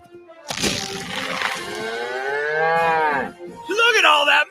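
A cow lows in a TaxSlayer tax-filing advert: one loud, drawn-out moo lasting about three seconds, then a shorter second call, with no talk over it.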